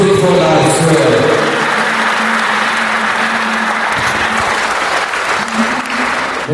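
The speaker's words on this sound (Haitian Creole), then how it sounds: "Applaudissez mon Dieu pour la soeur" A church congregation claps for a sister during an evangelistic service, loud sustained applause from a crowd throughout, with voices mixed in underneath.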